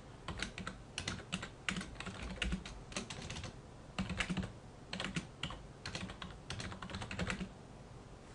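Typing on a computer keyboard, quiet close clusters of rapid key clicks in irregular bursts with short pauses between.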